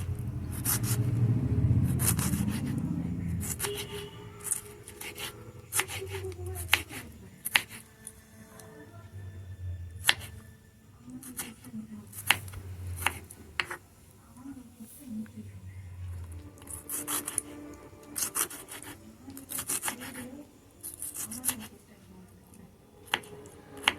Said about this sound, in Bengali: টমেটোটাকেও আমি একটু এরকম করেই পেঁয়াজের মতনই করে কুচি কুচি করে কেটে নেব।